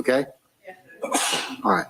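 A person sneezes in a courtroom during a hearing, a short burst set between bits of nearby speech from others in the room.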